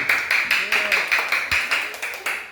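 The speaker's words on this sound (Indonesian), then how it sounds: "kasih tepuk tangan untuk semua kelompok, silakan" Group applause in an Indonesian teacher-training workshop, a series of evenly spaced bursts of clapping that sound like a rhythmic pattern from the room, with some speech mixed in.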